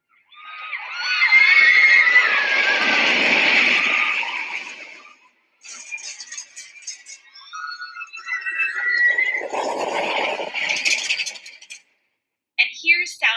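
A crowd of riders scream on a roller coaster: one long, loud burst of overlapping shrieks, then a pause, then a second, shriller wave of yelling, with a brief final cry at the end.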